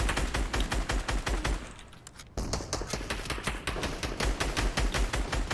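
Rapid automatic gunfire in a Fortnite Arena match, loud and close, with dense repeated shots that stop for a moment before resuming.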